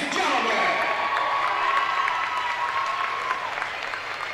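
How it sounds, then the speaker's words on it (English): Crowd applause and cheering fill a high school girls' basketball gym between St. Mary's Colgan and Frontenac, a sustained, fairly loud wash of clapping with scattered shouts that slowly eases off. "And give Macy Kotzman an opportunity to get a nice applause here."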